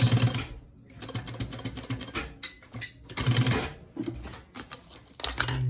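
Sewing machine back-stitching at the end of a seam on a handmade DIY planner, quick rhythmic bursts of stitching broken by short pauses, close and clear with no talk.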